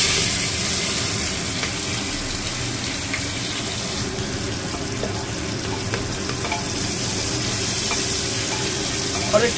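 Onions are dropped into a pan of hot oil with fried whole garam masala for a mutton curry, giving a loud, continuous sizzle and crackle close by with light stirring.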